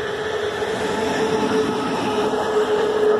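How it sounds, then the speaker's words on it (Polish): A train with a locomotive passes near Goczałkowice Lake, giving a steady loud rumbling roar with a sustained mechanical hum and no breaks, heard on its own without talk. "A cug, no lokomotywa jedzie."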